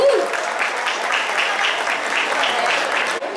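A crowd applauds the authorities present at the opening ceremony of an oriental festival in a town square in Piracicaba, steady close clapping with a faint rhythmic pulse and a brief voice at the start.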